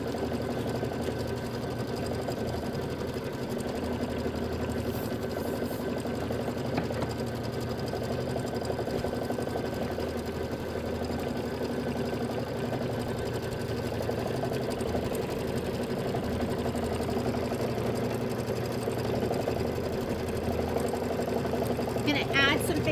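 A sewing machine quilts a decorative stitch across a small watermelon mini quilt block, running in a steady, continuous mechanical whir at close range for the whole stretch.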